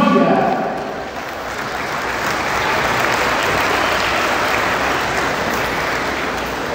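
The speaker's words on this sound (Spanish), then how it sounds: "Fuerte el aplauso para Comunidad Maya." Loud, dense crowd applause fills a Guadalupe feast celebration in Albertville as people honor a Maya community group, swelling after a brief dip and holding steady throughout, with voices mixed faintly into the clapping.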